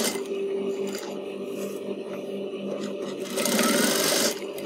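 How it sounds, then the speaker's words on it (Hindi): A sewing machine stitches a hidden zip into a kurti with a steady, close mechanical whir that runs throughout and briefly grows louder and brighter near the end. "जहाँ तक स्टिचिंग ले पाते हों वहाँ तक मशीन को ले जाना है"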